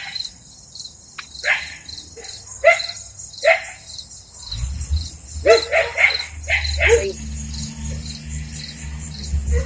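Dogs bark in several sharp, separate yaps at a moderate distance over a constant high insect-like whine, followed by a low rumbling drone in the second half.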